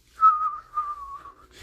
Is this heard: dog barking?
no